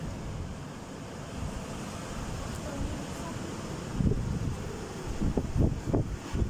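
Strong storm wind in Germany roars steadily at night, with gusting buffets on the microphone and swelling surges near the end.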